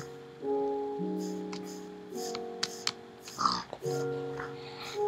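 Minecraft pigs give a few short oinks over steady, tonal game music, with light keyboard typing clicks scattered through.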